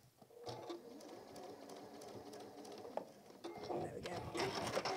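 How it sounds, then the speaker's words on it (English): A sewing machine stitching a fabric goose toy at a shorter stitch length, a fast steady mechanical whirring that speeds up toward the end, with a voice talking softly underneath. "So I might just go back in on that toe with that shorter stitch length just to smooth it out."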